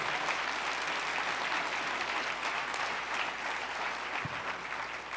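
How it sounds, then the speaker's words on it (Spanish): A church congregation applauds loudly and steadily, a thick continuous wash of clapping that fills the room for several seconds without letting up. "Si lo va a aplaudir, apláudalo fuerte."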